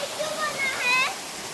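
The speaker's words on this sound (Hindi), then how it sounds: "माड़ा गुफा के पास बहता हुआ झरना" A waterfall near Mara cave pours steadily, a soft, constant rushing wash of falling water with faint higher splashes, fairly quiet and close.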